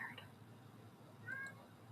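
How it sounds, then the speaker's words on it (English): A faint, short cat meow rises briefly near the middle of a quiet indoor scene, with soft talk around it. "Oh, I hear the meow."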